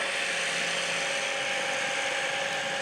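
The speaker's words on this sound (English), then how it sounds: "Listen to the speed of that camera." A film camera mechanism whirring at speed, a continuous dense mechanical rattle held steady and close throughout, with no voices.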